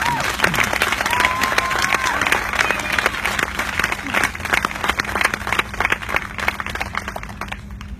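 Audience at a Relay for Life event applauding a speaker, steady dense clapping with some cheering and crowd voices, loud at first and easing toward the end.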